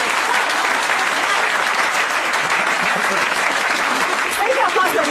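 Loud, dense applause from an assembled audience in a hall, steady clapping throughout with a few voices mixed in.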